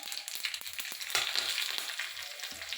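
Mustard seeds hit hot oil in a kadai and crackle with quick pops and a soft sizzle, fairly quiet and close, with a few scraping stirs and no voices.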